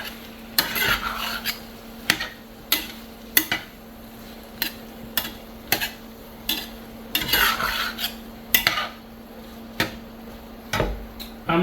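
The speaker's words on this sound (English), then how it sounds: "So mix that all together." A spoon scrapes and knocks against a pot while corn filling for stuffed poblano peppers is mixed, with repeated sharp clinks at an uneven rhythm over a faint steady hum, close and alone.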